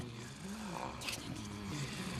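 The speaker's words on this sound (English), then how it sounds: "Who's that snoring?" Faint, low rumbling snoring drones on quietly with a slow rise and fall, in a children's TV craft show scene.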